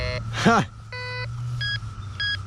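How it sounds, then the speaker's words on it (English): A beginner metal detector sounds off over a US large cent: a few clean electronic tones, one held beep then two shorter ones, fairly loud and close, with a voice briefly talking near the start. "I just stuck a US large cent in there. And we're going to see what it sounds like on the detector."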